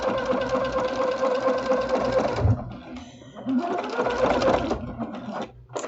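A sewing machine fitted with a walking foot drives through thick double batting and dart seams of a bowl cozy in two loud, steady bursts separated by a brief pause.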